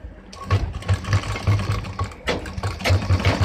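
A sewing machine stitches a pair of pants in short, uneven bursts, its motor whirring and needle tapping rhythmically up close, pausing briefly between runs, with no one speaking.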